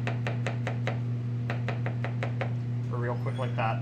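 A chef's knife chops food on a cutting board in a quick run of crisp, evenly spaced knocks over a steady low hum. A voice begins speaking near the end.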